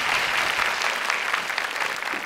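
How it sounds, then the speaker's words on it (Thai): On a Thai television singing contest, a studio audience applauds two singers with brisk, dense clapping that stays at an even level from start to finish. "ขอปรบมือให้กับศิลปินทั้งสองด้วยนะครับ"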